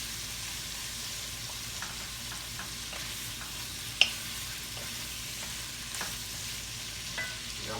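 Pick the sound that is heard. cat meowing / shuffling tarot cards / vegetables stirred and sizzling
vegetables stirred and sizzling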